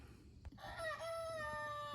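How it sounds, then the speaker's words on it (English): A rooster crows loudly and close by, a long drawn-out call with bright harmonic tones held for over a second, after a soft thump. "don't mind the rooster crowing in the background"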